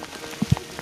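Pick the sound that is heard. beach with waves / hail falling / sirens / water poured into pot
hail falling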